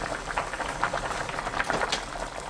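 Cod and seaweed soup bubbles in a pot, a soft continuous burble of small bursting bubbles, close and moderately quiet, with no voices.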